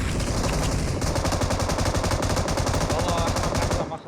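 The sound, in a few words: gunfire in a shooting video game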